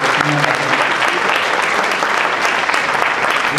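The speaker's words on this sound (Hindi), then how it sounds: "आप लोग ताली बजा के देखिए" Loud, dense applause from a crowd at a mushaira poetry gathering, continuous clapping filling the whole stretch without pause.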